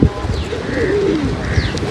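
A pigeon coos up close, low throaty warbling notes rolling together over a soft background hum.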